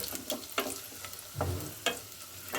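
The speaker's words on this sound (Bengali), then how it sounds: "তেলের মধ্যে দিয়ে দিলাম কাবাব চিনি আর দিয়ে দিলাম লবঙ্গ।" Cubeb and cloves crackle softly in hot oil with browned onions for a chicken and potato korma, while a spoon stirs in several evenly spaced strokes, faint and close.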